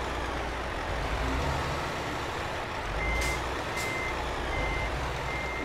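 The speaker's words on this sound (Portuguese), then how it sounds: "Vamos passar aqui para o caminhão, que é para ver o Luís a estacionar" A truck in Euro Truck Simulator 2 reverses while parking, its backup alarm beeping at a steady, evenly spaced pace over a loud, rumbling engine hum, with a brief hiss of air partway through and no talk.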